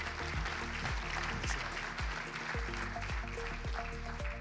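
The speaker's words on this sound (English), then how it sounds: "Please give a round of applause for Arizona's most recent unicorn founder and exit, Aaron Matos of Paradox." Audience applause at the Silicon Oasis Summit business event, welcoming a startup founder to the stage; sustained, dense clapping fills the room over a steady musical tone with repeating pitch sweeps.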